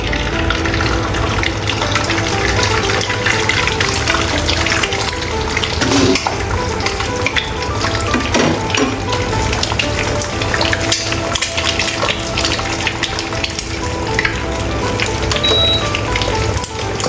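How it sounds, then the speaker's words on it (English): Egg frying in sesame oil in a wok, a steady dense sizzle and crackle that runs without pause, close and fairly loud. "Add egg and fried egg."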